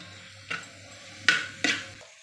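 Chopped capsicum being sautéed in a pan, a spatula scraping and clinking against the metal three times over a faint low hum.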